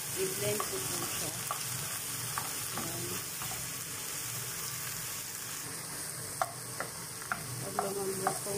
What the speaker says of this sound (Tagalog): Inix natin yung broccoli.